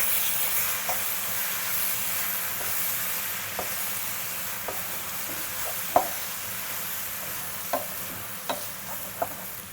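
Cooked minced meat for bolognese sauce being stirred in a large pot, a steady sizzling hiss broken by periodic clacks and scrapes of the utensil, close and moderately loud, no talking.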